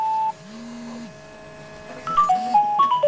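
A mobile phone rings inside a stopped bajaj: a short electronic tone, then a warbling buzz, followed by a quick run of bright melodic beeps, close and clear with no talk.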